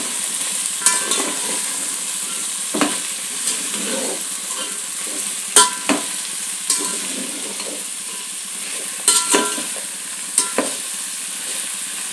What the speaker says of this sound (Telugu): బీన్స్, బంగాళదుంప మొత్తం కలిపి వేసేస్తున్నాను అండి.